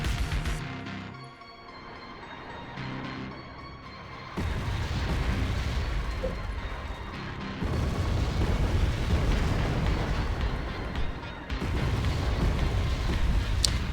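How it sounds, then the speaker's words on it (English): Artillery shells pound a town during a Wargame battle, heavy booms and rumbling blasts rolling in one after another at a distance, with a dense low roar that swells and stays loud throughout. "Some Tunchas shelling up the town over there by just south of Charlie"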